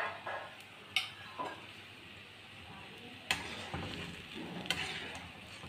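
Ginger and green chilies go into half a cup of hot oil over high heat for beef karahi, a soft sizzle broken by a few sharp spoon clinks and stirring scrapes against the pot.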